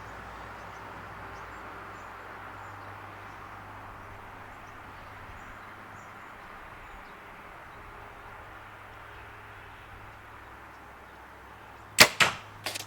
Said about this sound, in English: I'm going to shoot this arrow.